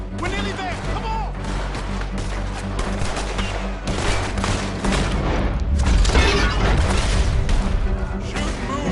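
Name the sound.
gunfire in Red Dead Redemption 2 video game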